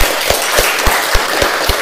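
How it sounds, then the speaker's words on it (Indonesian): Hands clap in a steady, evenly spaced rhythm, about seven loud, close claps with no talk over them, at a classroom lesson right after an ice-breaking activity. "Tepuk tangan dulu."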